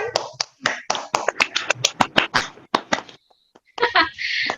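A classroom group claps hands together in short rhythmic bursts of sharp claps, a patterned class clap with gaps between groups, followed by a teacher's voice speaking.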